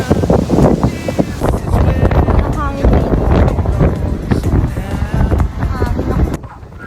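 Strong gusting wind buffets the microphone while people walk outdoors near SMX Mall of Asia, a steady loud roar with rustle, and voices talk over it throughout.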